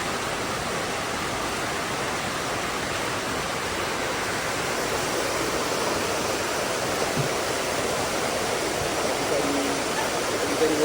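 Steady broadband rush of river water flowing, constant and fairly loud across the whole stretch with no pauses or voices.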